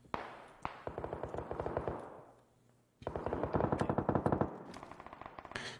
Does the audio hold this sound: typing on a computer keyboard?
no